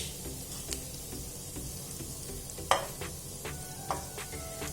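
Green chilies and curry leaves fry in a pan for upma, giving a faint, steady sizzle with occasional soft clicks of stirring, quiet and without speech.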